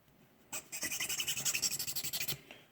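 Swipes of a call maker's tool along a duck call tone board from middle to tip, a quick run of about a dozen bright rasping strokes in steady rhythm, close and clear with no talking.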